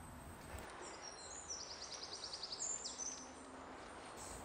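Birds sing on a morning walk, several bright chirps and trills repeating at moderate distance over soft outdoor ambience and faint rustling.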